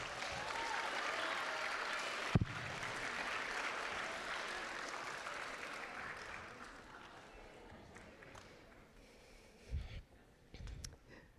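Students and families applaud honor roll recipients at a middle school awards ceremony, a broad round of clapping that gradually thins and fades, with a sharp knock early on and a few scattered noises near the end.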